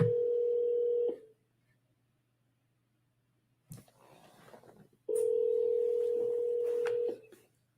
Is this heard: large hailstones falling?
no